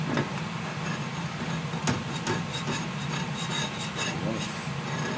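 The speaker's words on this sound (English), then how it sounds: "scrape up any residue. This little flat top is well seasoned." Residue is scraped off a small, well-seasoned flat top grill with a continuous rough, gritty scraping and a few sharper knocks, close and steady.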